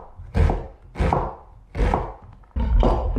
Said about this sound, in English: we'll cut this onion up fairly finely